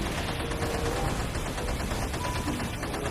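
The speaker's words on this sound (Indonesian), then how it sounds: "Ini tembakan AK-47." A blue toy AK-47 firing its electronic gunshot effect, a dense, continuous burst of rapid rattling shots at steady loudness, close and without talk.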